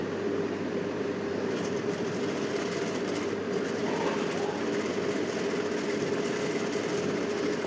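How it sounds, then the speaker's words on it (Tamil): A tailor's sewing machine runs continuously along an edge, stitching thread piping in place, producing a steady mechanical whir with no pauses. "அப்படியே ஓரமாக தையல் ஓட்டிகிட்டு வரணும்."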